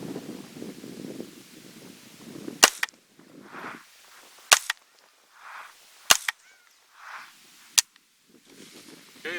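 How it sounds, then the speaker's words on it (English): .22 LR short-barreled rifle firing at a steel spinner target about 45 yards away, four sharp, loud cracks spaced roughly two seconds apart, each followed by a faint distant ring from the steel, with soft rustling between shots. "Okay, so I'm going to be just shooting at this little spinner. It's at about 45 yards."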